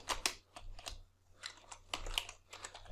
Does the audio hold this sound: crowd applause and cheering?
no